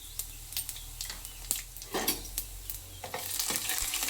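Urad dal and cumin seeds frying in a pan, soft crackling sizzle broken by several sharp clinks and scrapes of a spoon against the metal, growing busier toward the end.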